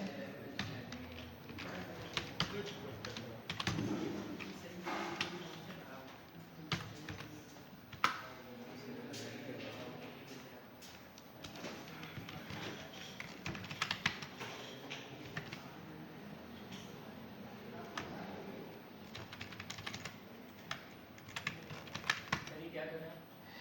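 Computer keyboard typing while text is entered into an input field, a steady run of light key clicks running throughout beneath continuous talk.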